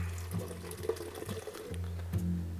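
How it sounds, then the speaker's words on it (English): Guinness stout poured from a can into a glass, a steady liquid glug and fizz with two gurgling surges, close and fairly quiet, no talking. "Open a can of Guinness. Oh. Can of Guinness. Then pour it in there."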